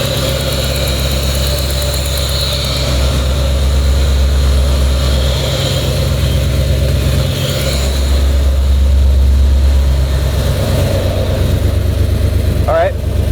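A brand new truck engine idles with a steady low rumble throughout, close and continuous, while people talk over it.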